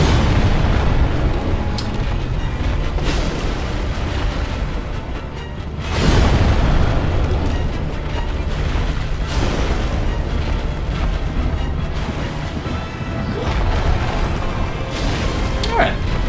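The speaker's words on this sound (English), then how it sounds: "A swing and an explosion." A boss in Dark Souls: Remastered swings and sets off an explosion, giving a booming blast with rumbling crashes and bursts over a dense, noisy battle din.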